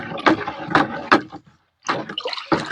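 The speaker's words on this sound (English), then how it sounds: "we're going to stir it" A bucket of fish hydrolysate fertilizer mixture being stirred, giving three rhythmic sloshing swishes, then a short pause and more churning liquid, close and fairly loud.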